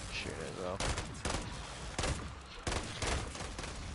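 Gunfire in Call of Duty: Modern Warfare Zombies, several sharp bursts of shots at uneven intervals over a few seconds, mid-distance and fairly loud, mixed with players talking.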